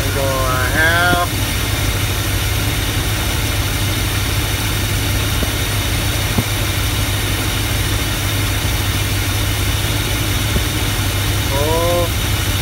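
A Chevrolet 350 V8 with an Edelbrock carburetor in a square-body truck idles steadily, a constant close rumble that runs through the whole stretch, with brief talk near the start and again at the end.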